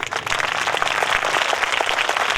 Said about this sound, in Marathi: पहिले विद्यार्थी टाळ्या वाजवून दाखवतील